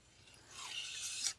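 A knife edge is drawn briefly across a fine diamond sharpening stone to deburr it, giving a single soft, rising rasping scrape that swells over about a second, close and quiet.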